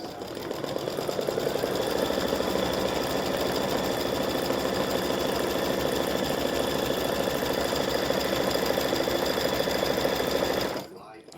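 An embroidery sewing machine stitching highlight stitches on an appliqué, a fast steady mechanical rattle that runs continuously for about ten seconds and then stops abruptly.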